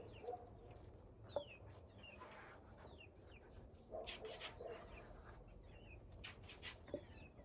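Chickens clucking softly in a suburban garden at dusk, scattered calls at a distance over a low background hiss.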